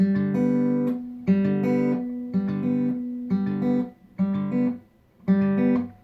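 Fingerpicked guitar lick, six short repeated phrases of plucked notes ringing clearly alone, each phrase separated by a brief pause.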